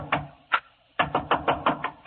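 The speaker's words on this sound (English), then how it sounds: "10 minutes later, I was banging on another door." Banging on a door in a radio detective drama: two separate knocks, a short pause, then a quick run of six firm raps, all close and distinct.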